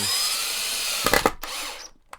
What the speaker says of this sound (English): I'll use the drill to put them in just because